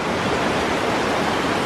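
Water rushes steadily through rock at a state park, a loud, close, unbroken roar of flowing water with no other sounds.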